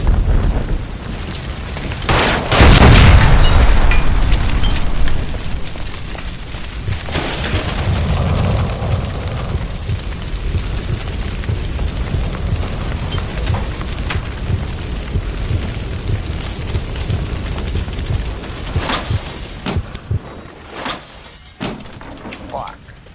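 A gas line blows up in the video game L.A. Noire, a sudden loud blast with shattering debris early on, followed by a long rumbling, crackling aftermath with scattered bangs and voices shouting over it.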